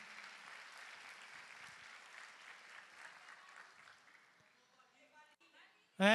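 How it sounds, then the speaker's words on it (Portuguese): Audience applause fills a church gathering, a steady patter of clapping that gradually fades over several seconds before a brief loud burst at the end. "Palmas para a Silvia também"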